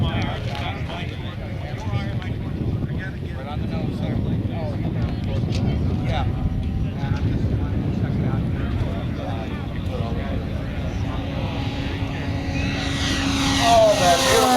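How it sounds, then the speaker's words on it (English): An electric model warbird with a Rimfire 50cc motor and a Castle 160 speed controller makes a low right-to-left pass at an outdoor flying festival, its steady propeller whine rising and sweeping past, with a voice speaking over it. "Oh, that beautiful aircraft that just went."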